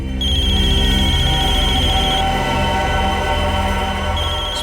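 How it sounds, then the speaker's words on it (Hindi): A mobile phone ringtone plays in a crime drama scene, a loud, steady electronic melody repeating for several seconds with no talking over it. "इसमें तो मोबाइल के रिंगटोन जैसा कुछ बजा है।"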